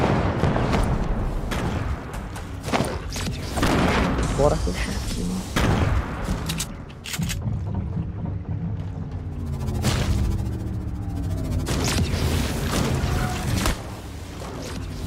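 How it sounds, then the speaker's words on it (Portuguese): Bombs exploding in the video game Fortnite: repeated heavy booms and thuds burst out one after another, loud and close, while someone talks over the blasts. "vou jogar umas bombinhas aqui"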